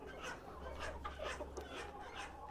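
A flock of free-range garden chickens at a farm clucks steadily and close by, with overlapping hens' calls forming a busy, continuous barnyard chatter and no clear talking.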